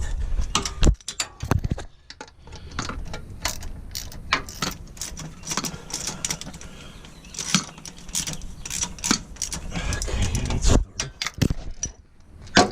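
A hand ratchet cranking a bolt while a crankshaft position sensor is being replaced on a car: close, loud metallic clicks and clanks in uneven runs, with tool rattling throughout and no talk.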